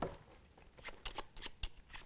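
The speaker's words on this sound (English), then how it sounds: "Pick up the first group for me, give it a shuffle." A deck of playing cards being shuffled at a table gives off a run of quick riffling bursts, close and crisp, with a brief pause between groups of flicks.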